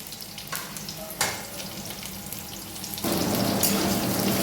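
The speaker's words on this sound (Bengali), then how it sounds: "আলুগুলো একটু সুন্দর লাল লাল করে ভেজে নেবো।" Potatoes fry in hot oil for a duck egg dish, a continuous close sizzle broken by a few stirring scrapes, swelling louder and fuller near the end, no talk.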